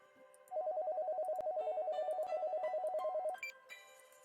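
A cell phone rings after a speed-dial call, a steady electronic trill pulsing in rapid repeated beeps for about three seconds before cutting off, clear and close in a quiet room.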